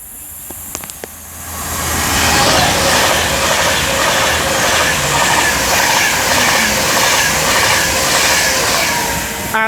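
Train 39107 on a Birmingham to London run passes on the West Coast Main Line at Marston Green, swelling from a few brief clicks into a loud, sustained rushing roar that holds close for several seconds.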